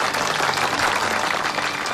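Sustained applause from a gathered crowd of people at a canal-naming ceremony, steady and dense throughout without any pauses, with no one speaking over it.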